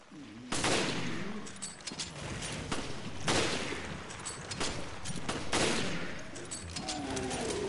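Sniper rifle shots in the video game Resident Evil: Revelations: three loud, sharp reports spaced a couple of seconds apart, each trailing into a rumbling echo over busy game noise.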